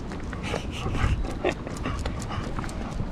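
A dog moves about close by outdoors, with soft footfalls and bursts of panting over a background of steady noise.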